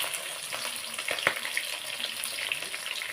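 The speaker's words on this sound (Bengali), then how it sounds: "তাড়াতাড়ি করে ভাজা করে নিই মাছটা" Fish frying in hot oil in a home kitchen gives a steady, moderately quiet sizzle with scattered crackles and pops. The sizzle holds through the whole clip, and no one speaks over it.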